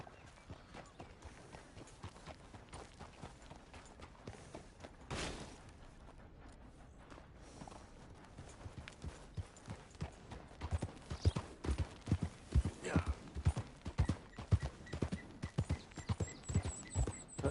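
Horse hooves clip-clop steadily in Red Dead Redemption 2, a quiet, faint rhythm that grows denser and more distinct toward the end, with scattered background noise.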